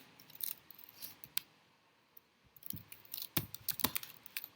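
Keys on a computer keyboard are struck while code is typed, giving sharp, sparse clicks in short irregular bursts separated by pauses, close and fairly quiet.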